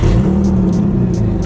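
An Infiniti G35 engine with an exhaust leak runs close and loud after starting, a steady low rumble with a raspy edge and a few faint ticking bursts on top.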